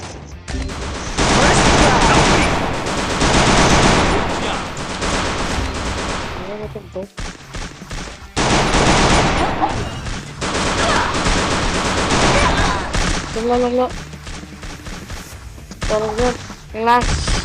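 Loud bursts of rapid gunfire and headshot kills in the shooter game Free Fire come in long volleys with brief pauses, mixed with game effects and a player's excited talking.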